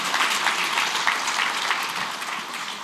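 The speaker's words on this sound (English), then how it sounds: "round of applause" Audience applause at a crypto discussion event, a brief dense burst of clapping that holds steady and then eases slightly, with no talking.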